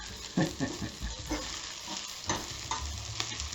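Food sizzles and fries in a pan on an old stove, with a steady hiss and occasional stirring scrapes and pops, close and fairly loud, no talking.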